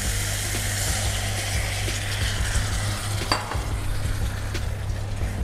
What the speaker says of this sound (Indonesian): Sekarang gua akan tambahkan air kelapa